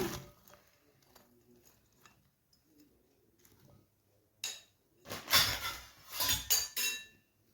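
Okra, green chillies, curry leaves and peanuts tossed together in a bowl make sparse, quiet clinks at first, then a louder burst of rattling, clattering mixing strokes.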